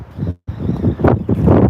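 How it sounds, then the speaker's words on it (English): Strong gusting wind buffets the microphone at a Buc-ee's gas station pump in a loud, continuous roar with a brief drop near the start. "Hear that wind?"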